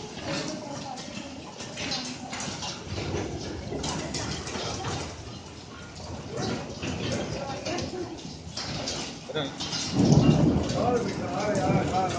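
A heavy rainstorm with thunder pours down steadily in a dense, close hiss, with rumbling thunder rising loud near the end while people talk over it.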